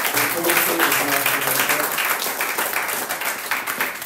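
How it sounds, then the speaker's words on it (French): A church congregation applauds together, loud dense clapping with some voices and cheering at the start, settling into steady applause that thins slightly toward the end. "on peut acclamer et applaudir notre Seigneur pour cette année"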